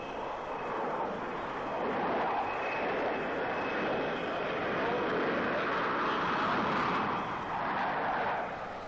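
Steady broadband roar of an aircraft engine at a busy Calcutta airport, a continuous loud wash with a faint high whine, holding level throughout with no pauses.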